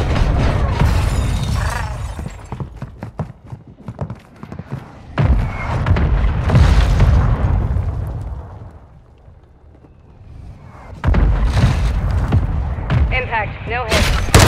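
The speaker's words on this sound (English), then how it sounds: "Mortar strike on the way." Mortar strike explosions in the Call of Duty Warzone battle royale on the Al Mazrah map, with loud heavy booms and rumbling blasts in several bursts and a quieter lull between them.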